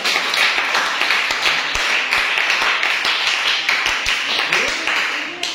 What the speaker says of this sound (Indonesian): Tepuk tangan untuk kelompok A ya